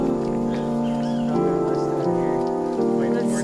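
Steady rushing water from a waterfall in Costa Rica just after rain, a continuous dense wash with no pauses, fairly loud and close.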